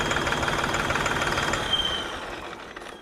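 A modified John Deere 5210 tractor engine runs close by with a dense, knocking rumble that holds steady, then eases slightly toward the end.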